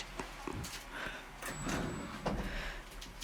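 An elevator's sliding door rolls shut with a muffled mechanical rumble and soft knocks, heard quietly at moderate distance in an indoor space.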